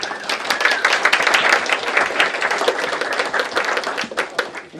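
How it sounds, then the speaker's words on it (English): A crowd at a minimum wage fishbowl event applauds the participants with brisk, dense clapping that stays close and lively throughout, thinning a little toward the end. "Can you give me a round of applause for everybody?"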